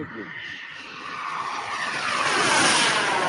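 An RC model airplane's engine at about 60% throttle gives a loud rising buzzing roar that builds and swells over a few seconds, close by and outdoors.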